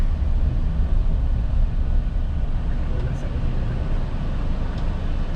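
Road traffic heard from inside a vehicle near the airport in Batanes: a continuous low rumble of engine and road noise, fairly even in level, with faint talk beneath it.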